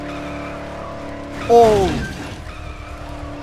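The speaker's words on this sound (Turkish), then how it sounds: "Araba geri geri gidiyor şu an." A car skids and reverses in the video game Dead Island: a short, loud tire-squeal sweep rises over an engine drone midway through, then fades back into game noise, with a brief spoken word.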